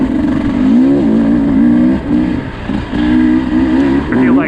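A 2024 Beta 250 RR two-stroke dirt bike engine lugs at low revs on technical terrain, a loud, close, throbbing drone that rises and falls with brief throttle dips and recoveries.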